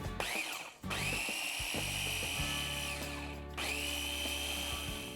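A blender whizzes a mixture containing coconut milk, a close high motor whine in two bursts that rev up, settle into a steady grind and cut off briefly between them.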